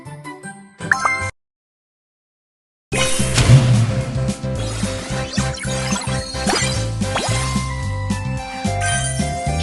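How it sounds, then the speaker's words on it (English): In a BabyBus kids' video game, a bright tinkling chime sounds for collecting a key, a short jingle followed by a gap of silence, then busy cheerful game music and effects resume. "Wow, you got a key."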